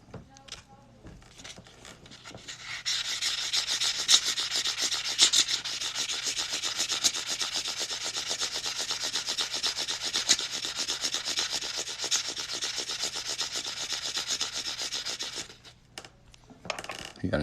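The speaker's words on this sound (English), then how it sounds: "I'm going to go ahead and sand this cut edge" Sandpaper rubbing the cut edge of a metal coin ring, a continuous rough scratchy hiss that starts after a couple of seconds, holds steady and close, then stops near the end.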